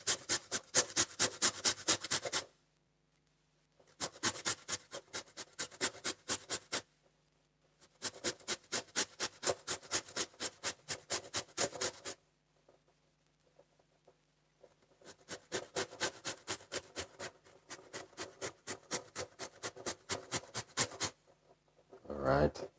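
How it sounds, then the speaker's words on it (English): A piece of ginger is rubbed back and forth across a grater for onion tea, producing close, rhythmic rasping strokes in several bursts separated by short pauses. "let's grate a piece of a ginger."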